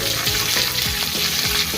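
Ginger pieces and coarsely cut onions fry in a pan, a continuous close sizzle with repeated stirring scrapes and no talking.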